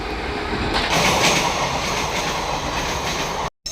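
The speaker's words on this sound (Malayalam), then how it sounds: "ട്രെയിൻ ഇത് എത്തിയിട്ടുണ്ട് കേട്ടോ." Train pulling into a station in Kulappully, Kerala, a loud close rumble of wheels and carriages with rhythmic rail clatter and a brief squeal, continuous until a sudden cutoff at the end.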